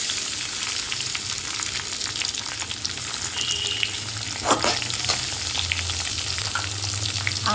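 Raisins and cashews frying in ghee over a low flame make a close, steady crackling sizzle, with a low hum beneath and one brief sharper pop partway through.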